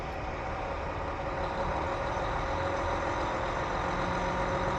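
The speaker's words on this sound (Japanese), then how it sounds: "出発とともに大きくなるエンジン音、かっこいいですね。" A diesel train engine on Japan's Hanasaki Line hums steadily as the train departs, a broad, even rumble that grows slightly louder over a few seconds, with no voices.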